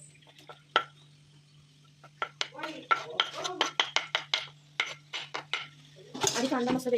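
A spoon clinks and scrapes against a cooking pan as masala, salt and chili powder are stirred into roasting onion, in quick irregular knocks that grow busier toward the end over a steady low hum.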